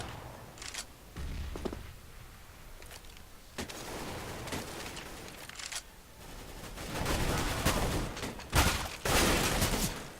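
Gunfire in Counter-Strike, scattered shots and bursts of varying loudness, some near and sharp, others more distant, with a dense cluster of loud shots toward the end.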